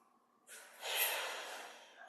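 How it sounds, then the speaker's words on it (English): A qi gong breath: a soft, drawn-out airy inhale swelling into a fuller rush of air, then easing off, close and fairly quiet with no talking. "Deepest inhale. Quick exhale."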